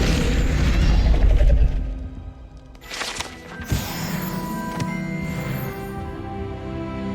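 A fire spell cast in Hogwarts Legacy bursts with a loud, deep boom and rumble, followed by a crackling flare and a fading, ringing hum.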